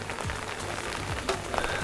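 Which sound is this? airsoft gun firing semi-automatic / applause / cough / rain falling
rain falling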